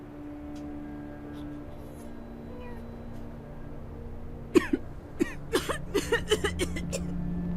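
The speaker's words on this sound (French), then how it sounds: "Fait que tousser sur son bébé." After a few seconds of quiet background hum, a woman in The Walking Dead Season 2 video game breaks into a fit of coughing, a quick string of harsh coughs close by.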